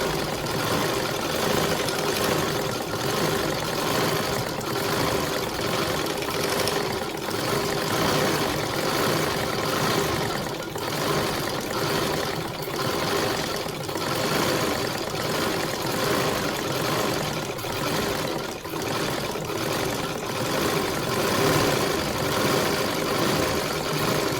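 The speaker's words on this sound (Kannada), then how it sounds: "ನಾನು ಇದಕ್ಕೆ ಮೋಟ್ರನ್ನ ಫಿಕ್ಸ್ ಮಾಡ್ಕೊಂಡಿದ್ದೀನಿ. ತುಂಬಾ ನೀಟಾಗಿ ಬರುತ್ತೆ." A motorized household sewing machine stitching embroidery on a blouse with an embroidery plate, a steady fast mechanical whirring and rattling that runs continuously at moderate loudness without talk.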